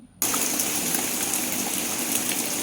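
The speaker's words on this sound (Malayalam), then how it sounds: "പുറത്ത് നല്ല മഴയാണേ" Heavy rain pouring down outdoors, heard from a home kitchen: a steady, loud, broadband rushing hiss that switches on abruptly after a brief quiet moment and continues unbroken, with no talking.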